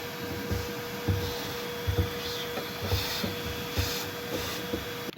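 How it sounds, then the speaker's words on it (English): A shop vacuum sucks up loose dirt around the open fuel tank access on a Honda CR-V during a fuel pump replacement, with a steady close roar and repeated scraping thumps as the nozzle is worked around the opening. "now we'll take our vacuum and suck up all the excess dirt that's around this area"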